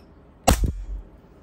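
One close, sharp shot from an AW Custom HX2032 gas airsoft pistol powered by green gas, a crisp crack with a quick mechanical clack of the slide right after.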